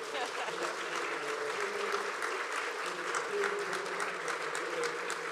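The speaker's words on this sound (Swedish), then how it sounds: "Jag såg att det var väldigt många män som applåderade här" A live audience applauds after a speaker's talk, with dense, steady clapping that fills the whole stretch while a voice carries on over it.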